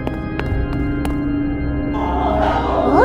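A Shrek ogre in a Roblox Backrooms maze game lets out a growling, rising roar toward the end, after several short sharp clicks over a steady droning game background.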